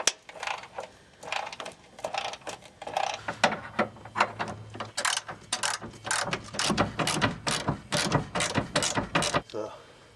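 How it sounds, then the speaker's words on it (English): A ratchet clicks in rapid repeated bursts while 15mm bolts come off the fuel tank straps of a 2003 Chevrolet Trailblazer, loud and close, with brief pauses between runs and a voice talking over parts of it. "we're going to take off these 15mm bolts that hold the straps"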